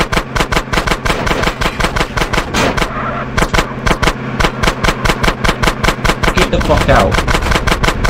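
Rapid, loud bursts of automatic gunfire rattle almost without pause in a Grand Theft Auto San Andreas shootout, with a brief lull before resuming, and a voice shouts over it.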